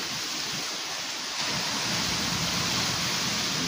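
Large ocean waves wash onto a black sand beach at a Sorsogon City fishing spot, a continuous loud roar of surf that swells slightly partway through, with no voices.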